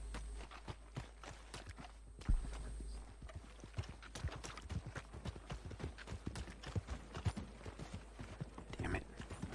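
Steady clip-clop of horse hooves walking at an even pace in a video game town, fairly quiet and close, with a few sharper knocks along the way.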